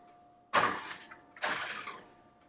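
Two sharp metallic clatters about a second apart, each trailing off in a short ringing decay, close by with no one talking, as baking pans of lemon bars go into an oven.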